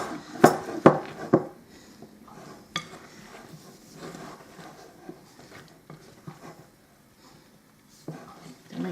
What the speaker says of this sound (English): add in my nuts. And just kind of stir to combine.